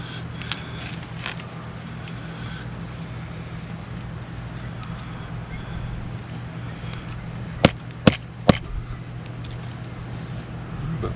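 Three small sharp whacks in quick succession while repairing an RV rug, standing out over a steady low hum and background noise.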